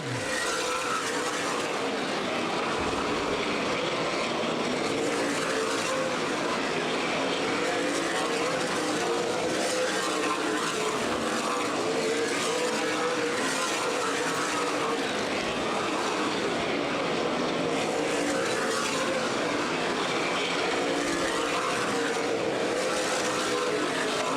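Race cars lapping Anderson Speedway during the CRA Super Series Redbud 300, a continuous loud roar of several engines rising and falling as the pack circles, with no talking.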